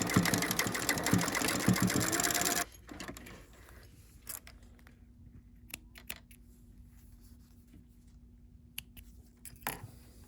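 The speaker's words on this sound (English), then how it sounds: "I'm gonna stitch just on the side of it, making sure I don't sew the elastic down." A sewing machine stitches beside elastic on a fabric mask, a fast close mechanical whir for a couple of seconds that stops abruptly, followed by quiet handling clicks and small taps.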